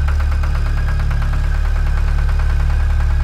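A cartoon tractor engine runs steadily, a loud continuous low rumble with a rapid knocking pulse throughout, alone with no talk.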